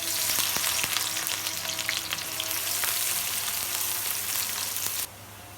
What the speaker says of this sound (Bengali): তেল গরম হয়ে গেছে, আমি পেঁয়াজ দিয়ে দেব।